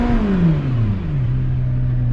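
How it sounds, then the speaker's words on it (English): A McLaren sports car in track mode gives one loud, close engine rev that falls away into a settling idle, with no voices. "Let's give it a rev"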